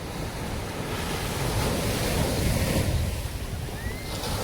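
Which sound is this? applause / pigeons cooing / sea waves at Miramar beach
sea waves at Miramar beach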